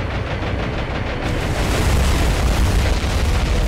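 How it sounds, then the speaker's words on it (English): Bombs going off in the naval combat game War on the Sea, a dense, continuous roar of low rumbling blasts and booms that swells slightly and stays loud throughout, with no voices. "And bombs away, bombs away."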